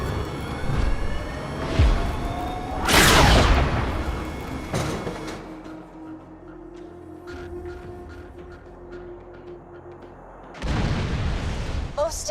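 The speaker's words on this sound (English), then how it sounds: "Please fire the cannon again." In the video game Borderlands 2, a cannon fires in loud booming blasts, one heavy burst followed by rumbling decay and scattered crackles, then another big blast near the end, with a voice speaking in between.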